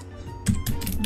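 Computer keyboard keys tapped on a PC during a Star Wars Republic Heroes game, a quick cluster of several close, crisp clacks within about a second.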